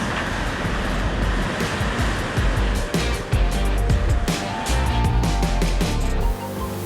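A constant, loud roar of rushing water pours without pause from a close Yosemite waterfall, with no voices.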